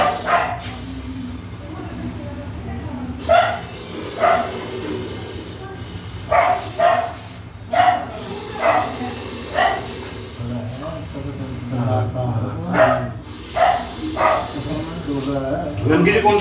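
A dog barks in repeated sharp bursts close by in a home where a black cobra was found in the kitchen, with a steady low hum and people talking throughout.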